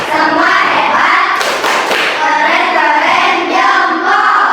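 Children in a classroom perform the tepuk hebat clap chant, rhythmic hand claps mixed with voices chanting together in a loud, bouncy pattern.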